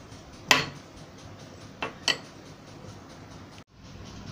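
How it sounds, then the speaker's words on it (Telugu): Ginger pounded in a kitchen for tea, three sharp metallic knocks, one early and two close together later, over quiet background noise, with a brief dropout near the end. "అల్లం దంచుతాను ఇప్పుడు."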